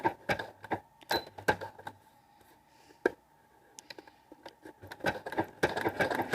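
A sewing machine stitches fabric along a marked line on a dress bodice, in short bursts of rapid mechanical clicking separated by quiet pauses, close and fairly soft.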